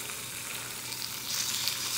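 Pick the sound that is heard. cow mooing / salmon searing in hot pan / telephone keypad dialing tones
salmon searing in hot pan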